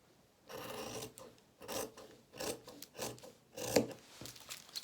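Fabric pattern pieces for a sewing project being cut out with scissors, giving a series of short rasping snips and rustles in irregular bursts, close by with no talk.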